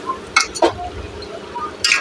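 Chicken pieces being stirred and dry-fried in a pan with onions, cooking in their own juices without added water, giving a few sharp scraping clinks of a utensil against the pan over a soft sizzle.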